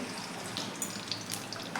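Oil and ghee heat in a wok with a faint, steady crackling sizzle and a few small pops scattered throughout, without any talk.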